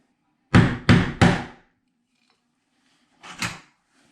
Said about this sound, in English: So we'll start by knocking off these hinge pins.